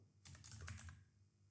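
A burst of quick keystrokes on a Mac keyboard, a short run of close, crisp clicks lasting about a second in a quiet room.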